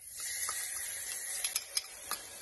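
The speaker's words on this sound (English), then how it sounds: "Start with our sesame oil. So heat up your pan, throw in your minced garlic." Minced garlic hits hot sesame oil in a pan, giving a close, bright hiss with several quick crackles and pops toward the end, no voices.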